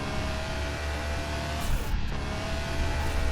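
A car in Car Mechanic Simulator circles a race track, its engine droning steadily and close, with a brief surge partway through and no talk over it.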